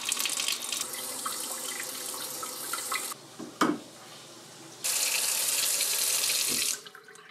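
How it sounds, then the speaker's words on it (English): Water rushes hard from an open faucet while new PEX water lines are filled, a loud steady hiss that cuts off briefly, sputters with air, then flows strongly again before stopping. "The faucet is still open, and once it flows without air, the main water supply can be opened fully and the faucet closed."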